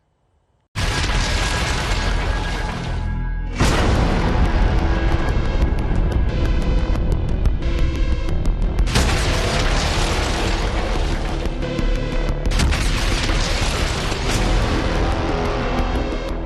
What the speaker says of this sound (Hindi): बम बारूद और धमाके